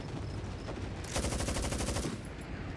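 A rapid burst of automatic gunfire in the video game Hell Let Loose: Vietnam, loud and close for about a second amid a noisy battlefield bed, with fainter shots before and after and no voices.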